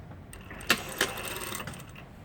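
Sewing machine stitching the side seams of tailored shorts, a soft steady hum from close by with two sharper clicks near the start, fairly quiet throughout.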